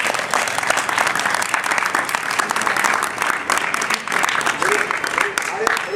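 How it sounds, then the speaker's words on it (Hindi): Loud, dense applause from a crowd at a winter camp event, honoring a teacher, sustained and steady for the full six seconds with a faint voice near the end. "तो मैं चाहता हूँ एक जोर से ताली हो जाए हमारे शिक्षक के लिए,"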